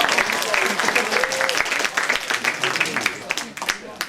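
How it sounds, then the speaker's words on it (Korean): An audience of high school students at a lecture breaking into lively applause, a dense crowd clapping close and steady for several seconds, with voices talking over it. "박수!"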